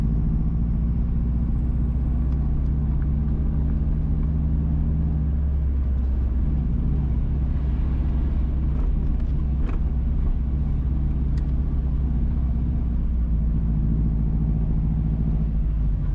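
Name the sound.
car driving along a road in Jamaica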